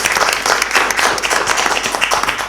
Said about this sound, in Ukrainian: Дійсно, цей результат заслуговує оплесків